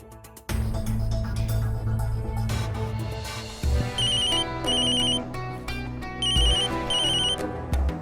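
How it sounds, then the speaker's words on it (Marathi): A telephone rings in a Marathi TV serial scene, with a repeating electronic ringtone trilling in bursts over a loud music score, heard plainly throughout with no talk. "ही पोरगी फोन का उचलत नाहीये?"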